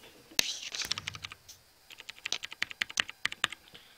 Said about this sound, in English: If you guys can hear my keyboard.